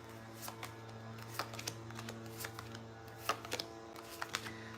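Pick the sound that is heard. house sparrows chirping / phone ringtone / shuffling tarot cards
shuffling tarot cards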